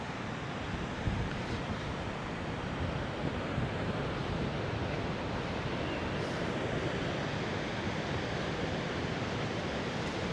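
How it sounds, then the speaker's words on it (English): Ocean surf rolls continuously onto a long, deep sandy beach at Agadir, Morocco, a steady full roar of breaking waves with some wind buffeting the microphone and no voices. "It's a massive beach, not only in length but in depth as well."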